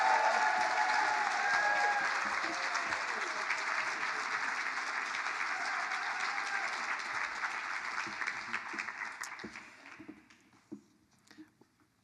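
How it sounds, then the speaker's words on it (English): An awards ceremony audience breaks into loud, dense applause that holds for several seconds, then thins out and dies away to scattered claps. "a really huge applause so that John can hear us all the way from his house across the state"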